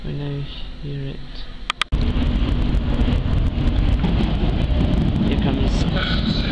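A London Underground Circle Line train at Euston Square station, with a few short tones and clicks, then loud continuous rumble and screech of the train running through the platform close by, with talk early on.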